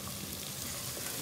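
Steady loud sizzle of frying masala in a pan as potatoes go in, a dense continuous hiss with no pauses.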